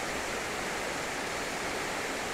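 A waterfall in winter, with ice and snow around, roars in a constant, even wash of white noise, steady and unbroken throughout.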